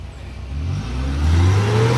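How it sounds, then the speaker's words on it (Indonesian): A used car's engine revved up close, rising from a low idle rumble into a louder, higher-pitched surge that holds near the end. "Mesinnya coba digas lagi."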